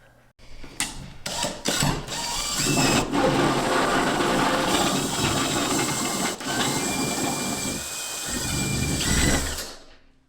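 A power drill with a 5/8 bit grinds steadily into drywall for several seconds after a few short starts, loud and near, with the pitch wavering as it bores through.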